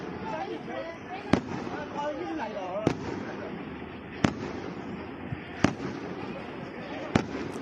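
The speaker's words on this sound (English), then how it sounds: "Yeah, they sound like firecrackers." Sharp firecracker bangs go off one at a time, about five over several seconds, each crisp and fairly close, with voices and commotion continuing underneath.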